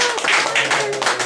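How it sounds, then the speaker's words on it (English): Toastmasters club audience clapping to welcome a speaker, a close, lively burst of hand claps with uneven rhythm and small swells, no voices over it. "let's welcome, please, with a good round of applause"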